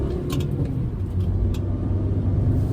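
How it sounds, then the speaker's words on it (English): A 2010 Volkswagen Jetta engine pulls steadily through the gears, a loud continuous droning rumble heard from inside the car, with no talking. "Goes through the gears pretty good."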